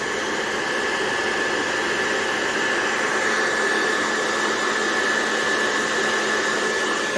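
Hair dryer blowing on a wet, stained garment, a loud constant whooshing roar with a steady whine that runs unbroken throughout, with no talk.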